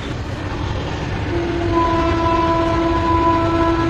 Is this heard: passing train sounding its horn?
yes